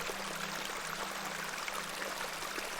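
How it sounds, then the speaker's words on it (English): Small beck flowing in the video game Excavation at Hob's Barrow: a soft, continuous watery rush and trickle with a faint steady hum beneath, quiet and unbroken, no voices. "This is a lovely little beck"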